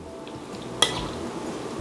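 Stir-fried king oyster mushroom and beef, topped with sesame seeds, being plated: one sharp clink of a utensil on a dish, followed by soft faint scraping in a quiet kitchen, with no talking.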